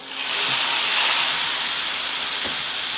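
Steak dropped into a very hot pan, an abrupt loud sizzle that swells within half a second into a steady hissing roar and holds, close up, with a faint clink partway through.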